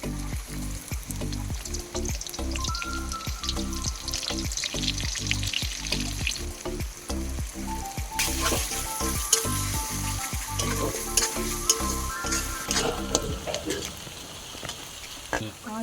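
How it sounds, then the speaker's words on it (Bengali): Sliced onions frying in hot oil for crispy beresta for a biryani, with a steady loud sizzle broken by regular sharp clicks and scrapes as a utensil stirs them through the full length, and no talking. "বেরেস্তা ভাজার জন্য পেঁয়াজ"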